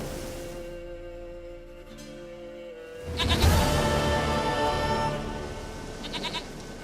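In The Witcher 3, a goat gives several loud, wavering bleats after a quieter stretch, with a short burst of noise partway through.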